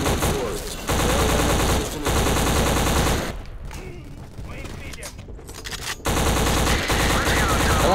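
Rapid automatic gunfire in the shooter video game Black, dense rattling bursts that stop for a few seconds and then resume loud and close, with a radio voice breaking in during the lull.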